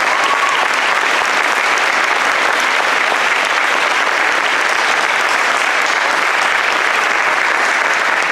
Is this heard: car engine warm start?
no